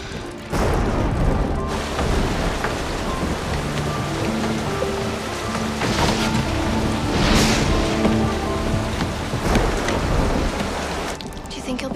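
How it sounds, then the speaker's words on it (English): Heavy rain pours outside during a thunderstorm in a Western film, a loud continuous wash with surging gusts and occasional brighter bursts, steady throughout and free of talk. "It's raining outside."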